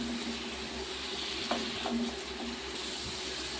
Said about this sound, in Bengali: আলুগুলো সুন্দর করে ভেজে নিচ্ছি।